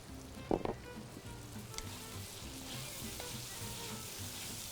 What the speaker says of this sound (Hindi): इसको डाल के थोड़ा सा फ्राई करेंगे, ज़रा सी खुशबू आनी शुरू होगी।